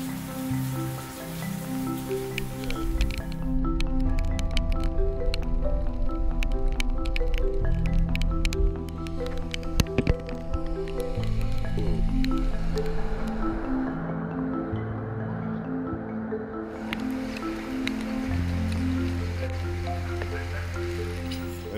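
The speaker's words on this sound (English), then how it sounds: "it just started pouring rain" Pouring rain during a cycle tour in China, a steady wash of dense drops drumming on surfaces close by, continuous for the whole stretch with a tonal background hum underneath.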